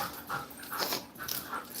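A husky and a young puppy whimper close by, giving a run of high, thin whines mixed with quick panting breaths.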